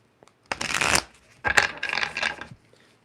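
Tarot cards shuffled by hand in three quick riffling bursts, close and fairly loud, separated by brief pauses with a soft tap at the start.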